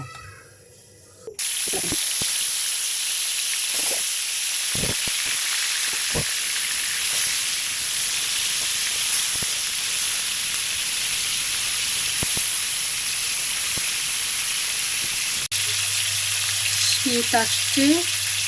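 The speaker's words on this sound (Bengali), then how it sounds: "ফ্রাই প্যানে তেল দিয়ে দিয়েছি, মাছগুলো ভেজে নেব" Turmeric-and-salt-coated river pangas fish from the Kirtankhola in Barishal fry in oil in a frying pan, a loud, steady close sizzle that bursts in abruptly and carries on with faint clicks before cutting off.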